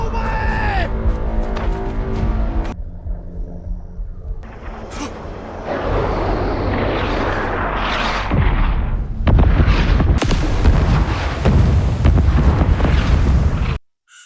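A bridge is blown apart by an explosion, heard as loud, heavy booms followed by a long, rolling roar and crackling debris that grows even stronger near the end before cutting off abruptly.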